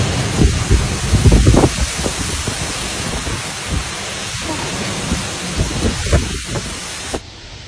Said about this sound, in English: The thunderstorm came from the west and brought heavy rain to several areas